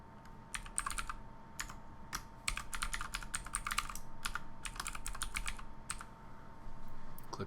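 Fingers type an administrator username and password on a computer keyboard in quick, uneven bursts of key clicks with brief pauses between, close and clear against a low hum.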